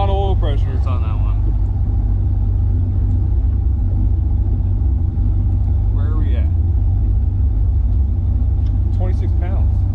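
An LS-swapped jet boat engine runs at a steady idle, a loud, continuous low rumble close by, with someone talking over it now and then.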